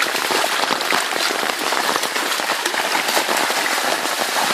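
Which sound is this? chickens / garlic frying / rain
rain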